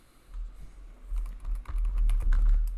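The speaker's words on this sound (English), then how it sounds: "You're gonna type the email" Keys clatter on a computer keyboard as an email address is typed, a close, steady run of quick clicks that grows busier and louder toward the end, with no talking.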